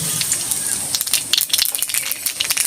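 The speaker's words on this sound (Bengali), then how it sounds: "এবার আমি ফোড়নে কালো জিরে দেবো" Black cumin (nigella) seeds dropped into hot oil for tempering while cooking a mixed-fish curry, a close crackling sizzle with bursts of sharp popping spatter that grow busier toward the end, no talk over it.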